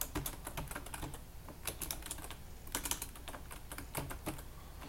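Fast, steady typing on a computer keyboard with crisp close clicks and occasional heavier keystrokes, continuing without talk in a quiet room.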